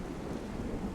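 A thunderstorm in the video game DayZ, with a dense, even hiss of rain under a low rolling rumble of thunder, steady and fairly faint throughout this brief moment.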